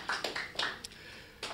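An audience at a Hindi poetry gathering (kavi sammelan) claps briefly. Scattered, faint hand claps come in short uneven bursts, with a gap and then a final burst.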